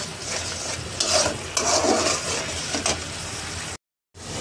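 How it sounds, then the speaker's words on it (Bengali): Thick spice paste with coriander powder and green chillies is stirred and fried in a pan, a close, steady scraping sizzle with louder strokes now and then, breaking briefly into silence near the end. "মশলাটা খুব সুন্দর করে কষাবো"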